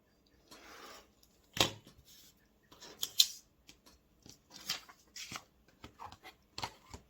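Fabric being sliced along a quilting ruler for a 60-degree diamond, a series of short, crisp cutting strokes and scrapes, close and fairly quiet, with pauses and small handling noises between them, no voices.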